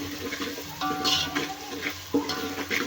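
Ginger garlic paste frying in oil in a pan for a village-style chicken curry, a soft close sizzle with light scraping stir strokes and faint clinks, no talking.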